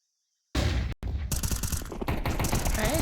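A flashbang grenade bursts in the Counter-Strike video game during a professional esports match, a sudden sharp blast after a short silence, then a brief dropout and a dense ringing clatter of in-game noise that keeps going.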